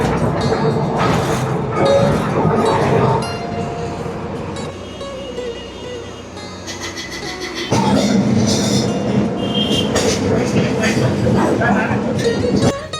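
Kolkata tram running on its rails, a steady close rumble with clattering wheel noise and occasional metallic clinks, louder in bursts, under some background voices.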